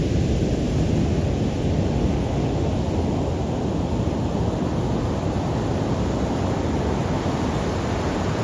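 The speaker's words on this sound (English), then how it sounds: "the waves crashing onto the shore" Steady, dense roar of ocean surf breaking on a shore, a continuous wash of noise with no distinct individual wave crashes, loud and unbroken throughout.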